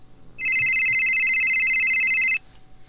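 A telephone rings loudly in one continuous two-second burst of bright, warbling electronic tone, with quiet room noise before and after it.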